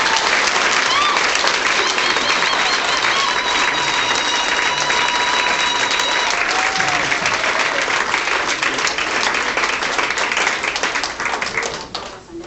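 A church congregation gives sustained, dense applause at a Sunday service, a loud wash of many hands clapping that holds steady and fades slightly at the end.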